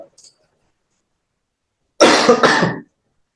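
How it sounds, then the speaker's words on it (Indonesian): A short burst of coughing, close and loud, heard on its own after near silence, during an online webinar. "Batuk baru ini baru 3 hari lah, baru 3 hari Pak."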